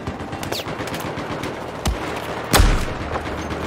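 Gunfire in the first-person shooter Battlefield 4, with rapid bursts of automatic fire over a dense, rumbling battle background. Two sharper, louder shots stand out midway.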